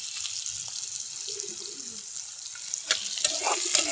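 Spicy onions frying in a pan for a tomato chutney, a soft continuous sizzle with a few scraping and clinking sounds of stirring near the end.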